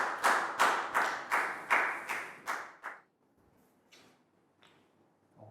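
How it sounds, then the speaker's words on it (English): Schoolchildren in an English classroom clap in unison, about eight crisp, rhythmic rounds of applause close up, followed by a few scattered faint taps and quiet. "Big round of applause for Nadia."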